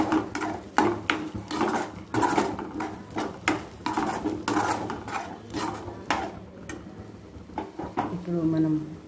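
A spice filling is stirred together with salt in a kitchen vessel, giving repeated scraping and clinking strokes of a utensil against the pot at a close, moderate level.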